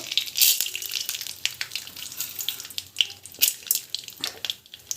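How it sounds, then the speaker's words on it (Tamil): Mustard seeds and cumin crackle and sizzle in hot oil, a steady bright frying hiss broken by irregular pops and spits, with a few louder bursts of spattering. "சீரகம் வந்து நல்லா பொரியட்டும்."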